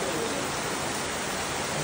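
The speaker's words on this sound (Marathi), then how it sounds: "बाकी पाऊस मस्त पडतोय" Steady rain falls beside a temple in a Konkan village, a dense, even hiss of water with no gaps and no voices.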